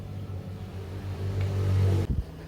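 A Yamaha Mio Sporty scooter engine revs during a CVT test. The steady drone climbs in pitch and loudness, then cuts off abruptly near the end with a short, sputtering drop.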